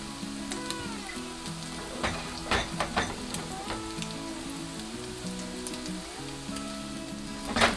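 Chicken tsukune meatballs sizzle in a frying pan, a soft steady crackle with occasional sharper pops and a brief scrape or stir, heard up close and fairly quiet with no talk.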